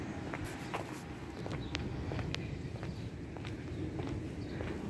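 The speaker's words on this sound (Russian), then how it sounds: "То есть только мои шаги слышны" Footsteps walk at a steady pace, each crunching step distinct and close, over a low constant rumble of outdoor background noise.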